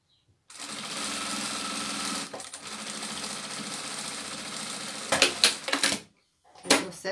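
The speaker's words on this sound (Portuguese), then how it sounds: "e estando alinhada, a gente faz a costura" A sewing machine stitching fabric scraps together for a rug runs in a loud, steady whir for several seconds, then gives short bursts for backstitching, with brief pauses between.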